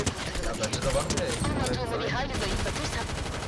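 Gunfire from weapons in the video game Fortnite rattles in dense, continuous bursts while players talk over it.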